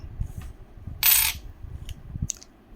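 Indian 2 rupee coins being handled give one bright, metallic jingle of coins clinking together, followed by a couple of small separate taps, close and clear over a quiet low rumble.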